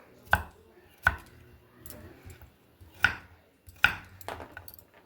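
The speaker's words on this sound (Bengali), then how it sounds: "তো দেখুন এইভাবে আমি পিস পিস করে কেটে নিলাম।" A large potato is cut into pieces with a knife, giving five or six loud, close chops at an irregular pace, each one a sharp knock with short quieter scraping between them.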